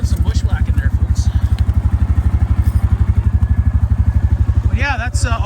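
A snowmobile with a stock secondary clutch spring bushwhacking through snow on a chilly winter ride, its engine throbbing loud and close in a fast, steady, rhythmic pulse throughout.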